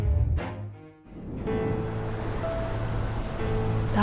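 Stormy sea waves crash and roll in an animated tale of a mermaid. A loud, sustained surf roar follows a brief gusty opening, with a faint tonal hum running underneath.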